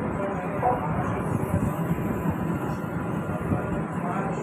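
Inside a moving AC local train, a continuous low rumble and rolling drone of the carriage fill the space, steady and fairly loud.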